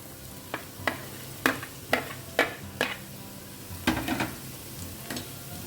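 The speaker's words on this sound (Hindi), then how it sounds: "अब इसमें डालते हैं बारीक चॉप किया हुआ टमाटर" Finely chopped tomato hits a hot frying pan, giving a soft sizzle broken by a series of sharp scraping and tapping strokes from a spoon against the pan, close and alone, with no voices.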